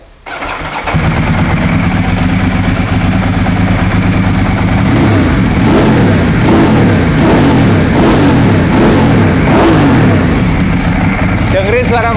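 A Ducati 999 motorcycle with a dry clutch fires up and runs loud and close, its engine revving repeatedly with a rattling clutch chatter, while a person talks over it.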